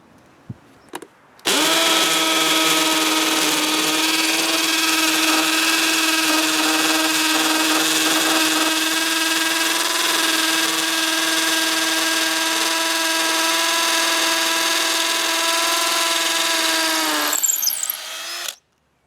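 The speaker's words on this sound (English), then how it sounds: "let's see how it's going to do drilling into solid block" A RIDGID Gen5X hammer drill, model R8611503, bores into solid concrete block with a steady, loud, high whine and rattle that runs continuously for about sixteen seconds, then stops abruptly. The drill is heard alone, close by.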